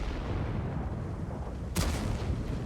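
A single tank cannon shot in a tank battle game, a sharp crack followed by a short boom, sitting inside a constant low rumbling engine drone.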